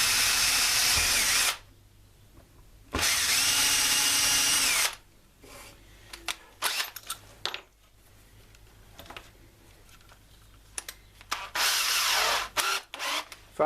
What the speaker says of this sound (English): And we need to drill from this side